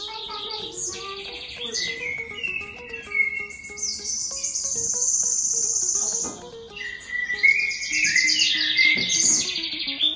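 A played recording of nature sounds fills a kindergarten room with varied bird calls, chirps and trills alongside steady cricket-like insect buzzing, moderately loud and continuous, without speech.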